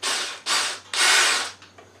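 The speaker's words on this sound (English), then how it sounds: "Drill a hole through the lid." Power drill boring a hole through a pumpkin lid, three loud whirring bursts of rising intensity in quick succession, close up, ending with a short rattle.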